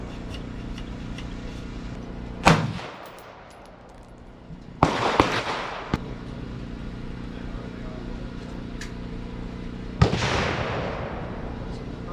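A muzzleloading rifle being test fired outdoors: three loud, sharp blasts, each with a short rumbling tail, spaced several seconds apart over a steady background hum.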